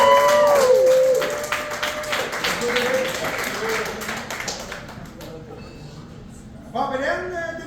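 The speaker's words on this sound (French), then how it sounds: "veuillez lui donner une bonne main d'applaudissement" Applause from a gala audience breaks out after a speaker is introduced, a dense patter of clapping in a hall that gradually thins and fades, with voices over the start and more talk returning near the end.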